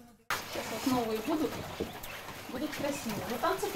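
A flock of quail on a farm keeps up a busy mix of chirps and soft calls from many birds at once, moderately close, with some faint talk in the background.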